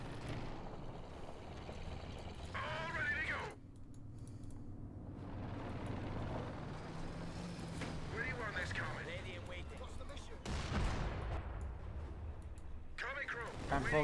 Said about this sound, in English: Panther opening up, firing away there